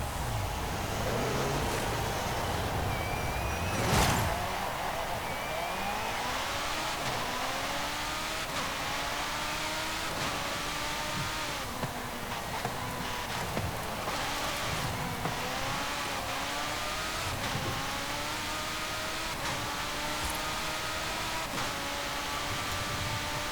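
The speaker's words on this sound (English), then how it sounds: "we'll listen to the car first" A 2024 Czinger 21C in Forza Horizon 5 accelerates continuously, its engine note rising and shifting through repeated gear changes over a noisy, hissing background, no talk.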